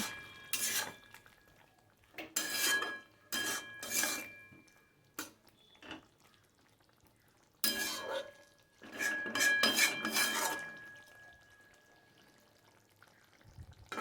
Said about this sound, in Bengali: দিয়ে আবারও একটু নাড়াচাড়া করে দেবো